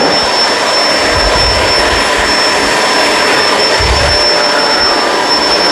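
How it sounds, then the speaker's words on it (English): Kenmore Crossover Ultra vacuum cleaner running, a loud, steady close-up roar of airflow with a constant high whine and brief low thumps. "This is a very good vacuum."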